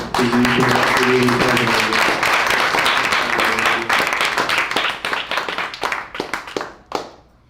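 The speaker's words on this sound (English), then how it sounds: "We're going to get another round of applause for" An audience at a disability justice event gives a loud, dense round of applause with voices mixed in early, thinning to scattered individual claps before stopping.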